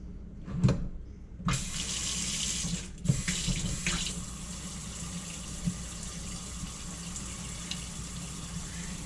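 Water pours steadily from a newly installed kitchen faucet into the sink, a close, constant rushing stream that starts after a few brief clicks and handling knocks.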